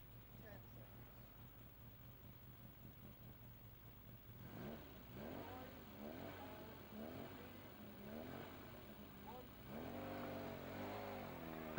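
An Italian sports car, an Alfa, revs at a classic car lineup, its engine rising and falling in repeated sweeps that grow stronger toward the end, with someone narrating over it.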